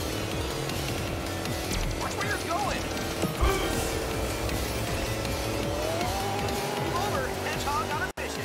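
Racing cars in the 2019 game Team Sonic Racing, engines roaring and whining with tire squeals, quacking effects and pitch sweeps, dense and loud throughout under a talking voice.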